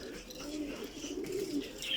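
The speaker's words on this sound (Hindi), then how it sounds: "शाहजहानपुरी कबूतर है ये माशाल्लाह से।" Soft, low cooing of a Shahjahanpuri pigeon in a home pigeon collection, faint and close with gentle repeated throaty notes.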